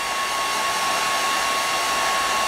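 A hairdryer blows steadily to dry fresh paint on a Warhammer Ultramarines Space Marine miniature, a constant close whooshing airflow with a thin motor whine, loud and unbroken with no talking.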